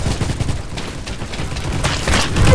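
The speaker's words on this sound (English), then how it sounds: "Stop shooting me!" Rapid bursts of video game gunfire in Roblox Bad Business, loud and continuous with dense overlapping shots, growing heavier toward the end.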